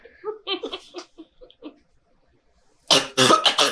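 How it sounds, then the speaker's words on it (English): A person gives a quick cluster of loud, sharp coughs after some brief, soft vocal sounds. "I accidentally coughed and unmuted myself mid-talk"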